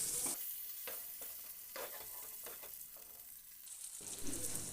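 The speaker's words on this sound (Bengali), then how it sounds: "উল্টে পাল্টে ভেজে নিচ্ছি আরেকটা পাশ খুব ভালোভাবে ভাজা হয়ে যাওয়ার পর" Fish fries in hot oil in a pan with a continuous close sizzle. Scraping and stirring strokes come as the pieces are turned over, with no talk.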